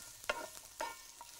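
Food being stirred in a frying pan, heard as two or three quiet scraping strokes over a faint sizzle, with no one talking.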